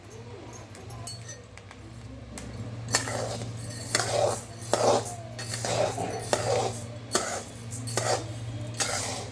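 Jowar (sorghum) grains roasting in a pan until they start to pop, with a utensil scraping and clinking against the metal in repeated strokes over a low steady hum.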